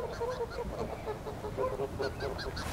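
Several geese honk repeatedly at close range, short nasal calls overlapping in bursts against a steady outdoor background.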